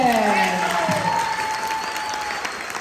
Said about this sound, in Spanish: El aplauso fuerte.